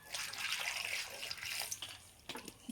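Water is poured into a cooking pan holding pumpkin pieces: a steady, close splashing pour that runs for a couple of seconds, then breaks into a few short trickles at the end.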